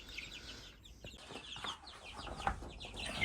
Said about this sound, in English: Just listen to them chirp for a moment.